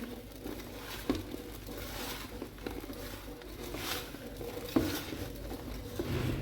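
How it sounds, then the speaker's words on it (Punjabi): Lemon pickle ingredients with plenty of sugar are mixed by hand in a bowl: soft, irregular scraping and stirring with occasional light knocks against the container, fairly quiet and without talking. "ਹੁਣ ਆਪਾਂ ਇਹਨਾਂ ਨੂੰ ਸਾਰੇ ਕੁਝ ਨੂੰ ਕਰ ਦੇਣਾ ਚੰਗੀ ਤਰ੍ਹਾਂ ਮਿਕਸ"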